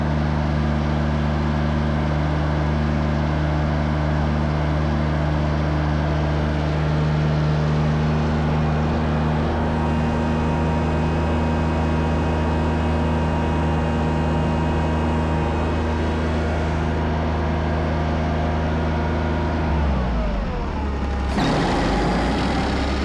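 John Deere 322 lawn tractor engine idling with a steady, loud mechanical hum and drone that holds evenly, then dips and shifts sharply near the end.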